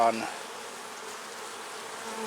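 Honeybees buzz at an open beehive during a brood inspection, a steady dense droning hum filling the whole clip at moderate loudness, with a brief clunk at the start and no talk.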